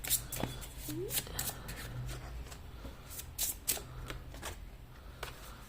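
Tarot cards shuffled and drawn in a soft, close series of brushing riffles and light snaps, with faint background hum and no speech.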